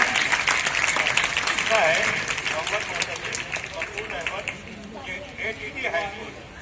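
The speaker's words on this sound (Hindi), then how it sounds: "उससे ज्यादा जोर से तालियां" Applause from an audience at a school prize distribution as a girl and her mother come on stage, loud and sustained at first, then thinning into scattered claps under a voice speaking.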